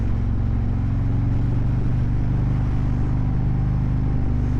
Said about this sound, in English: These big displacement engines, again, Harley's done a good job of making them sound nice